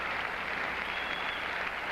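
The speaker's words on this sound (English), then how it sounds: "And the crowd shows its approval of Ilya Nastase" A tennis crowd at a 1978 Forest Hills WCT semifinal applauds Ilie Nastase: a steady, distant wash of clapping from many hands, fairly faint and unbroken, with no talking.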